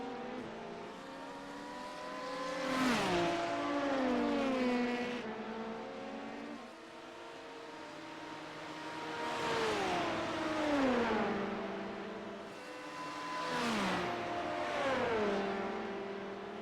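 LMP2 prototype race cars lapping Watkins Glen in a sim racing game, engines rising and falling in repeated sweeping passes with shifting pitch, moderately loud and continuous.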